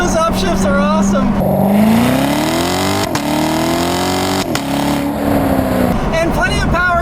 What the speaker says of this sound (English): Oh man, I love those crackles and pops whenever you get on it